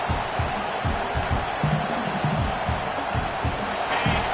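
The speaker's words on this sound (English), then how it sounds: "This crowd trying to make life miserable for this offense." A steady stadium crowd roars at a college football game between Oklahoma State and OSU, a constant wash of noise while a commentator talks over it.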